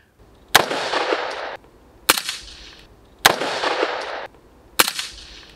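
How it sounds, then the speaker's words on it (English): Four sharp gunshots from a 300 Blackout AR-15, comparing subsonic and supersonic ammunition, ring out about a second apart, each a loud crack trailed by a decaying echo, with no talking. "I will pop up some clips of me shooting some subs versus me not shooting subs"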